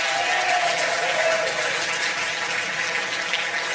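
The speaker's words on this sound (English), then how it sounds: "give yourselves another big round of applause for all your incredible work" Steady applause from an awards ceremony audience fills the room at a dense, even level throughout, with faint voices mixed in.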